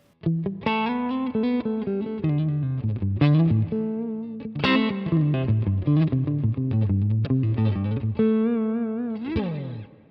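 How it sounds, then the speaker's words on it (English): A Super Telecaster electric guitar plays a lively melodic phrase with clean, fairly dry tone and light reverb, notes ringing out close and steady. "maybe you would like to hear a more drier tone, with just some reverb"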